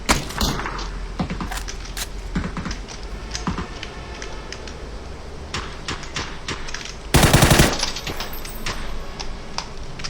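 Rapid gunfire bursts in the PUBG video game crackle repeatedly over keyboard clatter, with one loud, dense burst standing out partway through.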